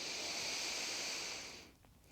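A slow nasal inhale during a gentle evening floor-based yoga session: a steady, soft airy hiss held for about a second and a half before tapering away, close and quiet with no talk over it.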